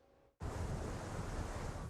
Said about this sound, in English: Waves lash the bulkhead along Charleston's waterfront while shopkeepers sandbag storefronts ahead of Tropical Storm Hermine.